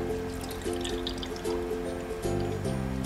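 Brewed green tea from a sachet in 200 ml of water being poured into a small bowl, a soft continuous trickle and splash with faint tonal ringing, heard alone.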